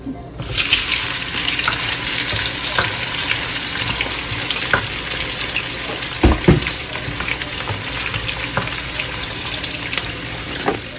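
Onions frying in hot oil for green masala chicken, a steady loud sizzle and crackle running the whole time, with a few sharp clinks of a utensil against the pan midway.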